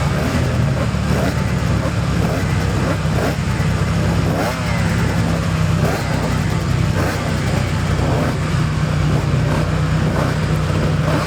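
Racing motorcycles at the Classic TT, including a Yamaha, roar loudly and continuously as engines rev past, with a dense mechanical drone and crowd noise underneath.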